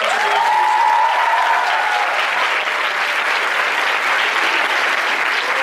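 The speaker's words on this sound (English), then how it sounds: "So can we have a bigger round of applause for this month today?" Sustained applause from an audience at a Model UN training session, dense and steady throughout with a brief whistle-like tone early on, no talk over it.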